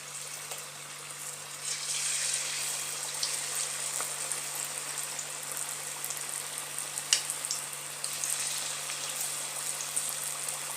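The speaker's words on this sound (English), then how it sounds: "Then dip them into the hot oil." Potato slices coated in bhajia batter frying in hot oil give a broad, continuous hiss and bubble that holds steady, with a few brief louder spits along the way.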